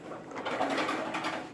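A noisy pet bird, a pigeon or dove, coos softly and steadily close by in a home. The short, continuous murmur is heard alone, without speech.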